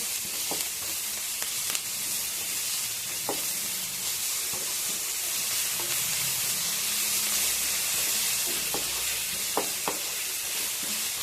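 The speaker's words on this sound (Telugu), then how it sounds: "స్పూన్ జింజర్ గార్లిక్ పేస్ట్ వేసుకోవాలి పచ్చి వాసన పోయేంత వరకు ఫ్రై చేసుకోవాలి" Ginger garlic paste frying in a pan during mushroom fry preparation, a steady broad hiss of sizzling oil with a few scattered light spatula scrapes and pops, close and continuous, no speech.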